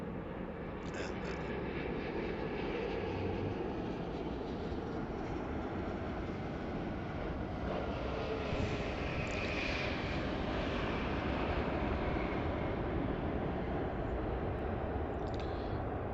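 An airliner arriving at Heathrow Airport after a flight from New York gives a loud, continuous jet-engine roar that holds steady for the whole stretch, swelling slightly toward the end.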